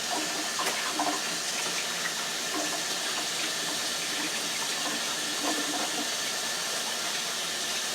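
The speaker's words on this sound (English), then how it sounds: "So let me wash my hands." Tap water runs steadily into a sink while hands are washed in a home kitchen during pie baking. It is a constant close hiss of flowing water with faint splashes and clinks.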